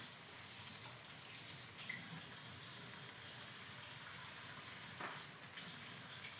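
A kitchen sink tap runs in a steady, soft rush of water for washing up while soup is being made, faint and continuous with a few small clinks.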